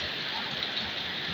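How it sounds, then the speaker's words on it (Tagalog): Heavy rain pours down outdoors, a dense, steady hiss of falling water that stays loud and even throughout the short stretch, with no voices. "Lakas ang ulan."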